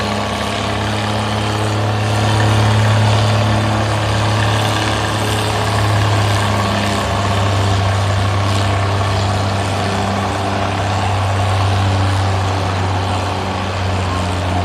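Oliver 770 tractor engine pulling in a slow gear at a county fair tractor pull, a deep steady drone with low throbbing, loud and continuous throughout with faint crowd ambience.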